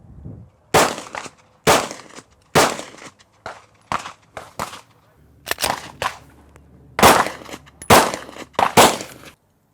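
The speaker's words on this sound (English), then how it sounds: "got a Glock 19 here as our host gun. Just gonna fire 3 rounds with this" A Glock 19 pistol firing 115 grain ammunition: sharp, loud shots ring out one at a time at irregular intervals, each with a short echoing tail and quiet gaps between them.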